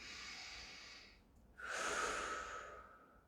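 Slow, steady breathing from a person in a seated stretch: a long airy exhale, a short pause, then a fuller, louder breath, close and soft with no talking.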